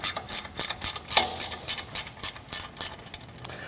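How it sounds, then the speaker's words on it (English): A ratcheting wrench turning the nuts on a bearing of a Laguna Supermax 19-38 combination sander, giving close, quick clicking bursts in a steady back-and-forth rhythm with no talking. "I find that a ratcheting wrench works a lot easier than a standard opening wrench"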